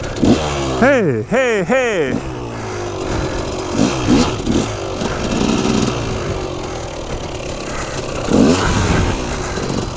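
KTM EXC enduro motorcycle climbing a slope off-road, the engine revving hard in rapid rising and falling bursts near the camera, with a rider speaking over the steady motor noise and a short shout.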